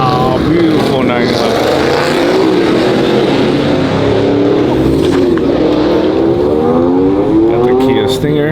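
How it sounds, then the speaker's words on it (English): A Kia Stinger drives past at night at an Ocean Beach car meet in San Francisco. Its engine gives a loud, continuous, close roar that rises and falls as it revs, with no clear breaks. "Got the Kia Stinger."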